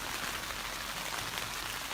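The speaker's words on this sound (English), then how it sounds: "It is unexpectedly raining." Steady, dense rain falling at a campsite on the third day of a van-life trip, a continuous close hiss of drops with no voices.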